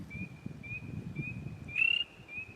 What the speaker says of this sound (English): I hear a spring peeper